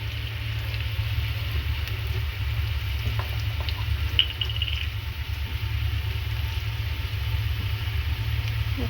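Asafoetida (hing) fries in a pan with a steady, even sizzle running throughout, with a few faint clinks.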